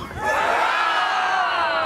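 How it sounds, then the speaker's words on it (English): A crowd at a climate protest camp in Blackheath lets out a loud, sustained shout of hurrah, swelling up quickly and holding as one massed cheer of many voices. "Let me hear a hurrah for taking action"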